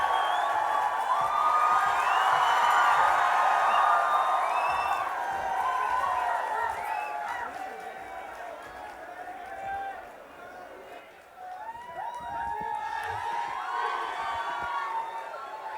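An audience at a live comedy chat show cheers, whoops and shouts to welcome comedian Anubhav Singh Bassi. The roar is loud at first, then dips briefly and swells again, with excited voices and some chanting throughout.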